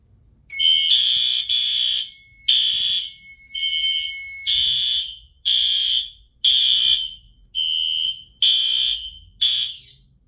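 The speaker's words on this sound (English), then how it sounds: "Alright, so now I'm going to test the smoke detector." A smoke detector blares during a fire alarm system test, a loud shrill electronic tone sounding in a rhythmic on-off pattern of repeated pulses, alone with no talking.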